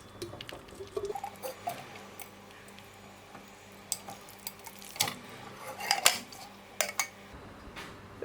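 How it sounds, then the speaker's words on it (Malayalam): Marinated beef is tipped into a pressure cooker, with soft wet plops and scattered sharp clinks of a spoon against metal, quiet and close, over faint background hum; no talking. "ഇനി നമുക്ക് ഈ ബീഫ് കുക്കറിലേക്ക് ഇട്ട് കൊടുക്കാം."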